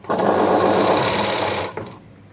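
A sewing machine stitches down folded blouse fabric in one short, loud, buzzing run of under two seconds, then stops abruptly.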